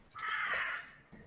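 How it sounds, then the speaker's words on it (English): A crow caws loudly and harshly outside, a single drawn-out call close enough to fill the moment, followed by a brief quieter trailing note. "pissed off crow out there."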